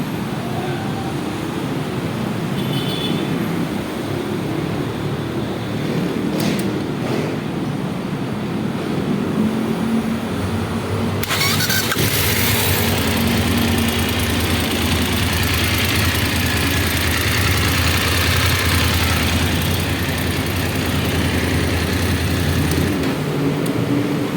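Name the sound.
car engine cranked by starter, then idling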